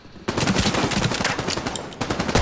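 Rapid bursts of gunfire crack out in The Division 2 during a firefight at the Embassy Crash Site, loud and close, a dense run of shots following a brief quiet start.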